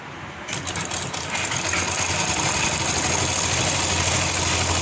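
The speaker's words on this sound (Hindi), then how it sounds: "बिल्कुल इसी के ऊपर मुझे मशीन चलानी है" A sewing machine stitches a kurti seam along a marked line, running steadily with a fast, even mechanical whir that starts after a brief pause and continues close and loud throughout.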